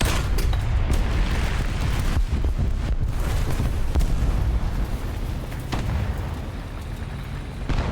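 Dense, continuous tank cannon fire and explosions in the War Thunder game as a South African SARC Mk.VI light tank engages a Panzer III, with loud booming blasts layered over a steady rumbling battle din.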